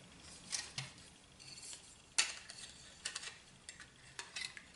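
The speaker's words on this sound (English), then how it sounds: "the stove just folds out" A Monkey Boy folding stove being unfolded on a Mil-Tec cook stand outdoors, faint close metallic clicks and scraping ticks at irregular intervals, with one sharper snap partway through.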